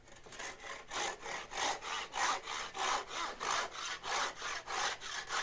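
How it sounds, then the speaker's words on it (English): Hand crosscut saw cuts through a wooden board in a steady rhythm of about a dozen even push strokes, close and clear with no talking. "this is a crosscut saw that I make"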